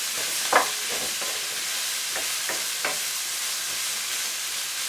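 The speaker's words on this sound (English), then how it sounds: "The onions are frying away." Onions frying in a pan for a curry give a steady, close sizzling hiss, broken by a few soft clicks and scrapes as they are stirred. No one speaks.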